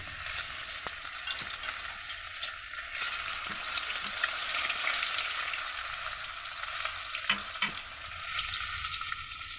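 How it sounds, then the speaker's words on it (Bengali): Steady crackling sizzle of fish frying in hot oil, continuous and close, with a few brief clinks partway through. "মাছটা ভেজে নেব, তারপরে আপনাদের সামনে আসছি। মাছটা ভেজে নেই।"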